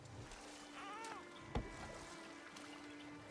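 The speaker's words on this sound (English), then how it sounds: "Do you enjoy the gentle waves, little one?" Gentle river water laps around a small boat in God of War Ragnarök, a soft continuous wash with a faint splash partway through and a low steady tone underneath.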